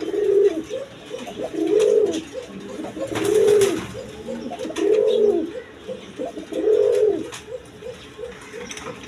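Giribaz pigeons cooing in a regular rhythm, about five soft rolling coos spaced roughly evenly, close by, with faint background noise and no talk.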